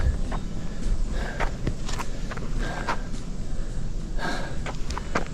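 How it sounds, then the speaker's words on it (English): Heavy, rapid breathing from a hiker on a road walk along the Florida National Scenic Trail, just after nearly stepping on a water moccasin, comes in close bursts over steady outdoor noise, with scuffing footsteps. "I'm breathing hard because I just literally almost stepped on that guy"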